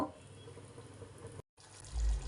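Water is poured into a pan of chicken gravy, giving a steady close splashing flow for over a second that cuts out briefly before a louder, low rumbling stir of liquid.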